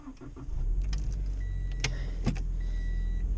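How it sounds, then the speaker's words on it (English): A Honda car with an automatic transmission hums along with a steady low engine drone, faint clicks and thin whines over the road noise from inside the cabin. "Driving an automatic for the first time."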